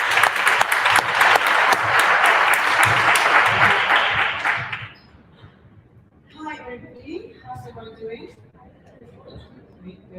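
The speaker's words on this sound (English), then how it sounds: "Give her a round of applause" Audience at a tech community talk clapping loudly for about five seconds before the applause cuts off, followed by quieter room noise and scattered murmurs.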